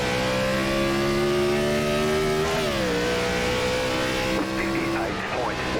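Gen4 NASCAR stock cars roar at the green flag in iRacing at Iowa Speedway, a loud, sustained engine drone that climbs steadily in pitch, then dips with gear shifts, close and continuous throughout.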